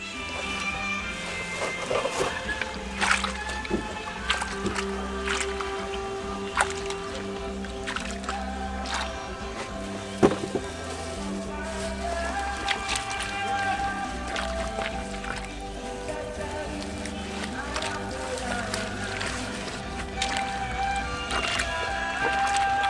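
Cloth for Sumba weaving is soaked and squeezed in water, giving wet squishing, sloshing and dripping sounds over a steady low background hum, with a few sharper splashes.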